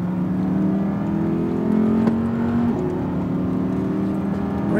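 2022 Audi R8 accelerates on a track, a steady close engine drone with a sustained rising tone and whir, loud and even with no talking.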